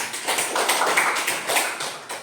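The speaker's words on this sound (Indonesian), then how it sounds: "tepuk tangan untuk kelompok 3" Applause for a student group in a classroom session, a dense burst of small-group hand clapping that stays steady and fairly close for about two seconds before thinning at the end.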